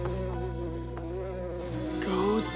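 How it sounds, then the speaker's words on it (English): A bee buzzes in a classroom in a Power Rangers Super Ninja Steel scene, a continuous droning hum heard close and steady with no speech over it. "And someone get rid of that bee."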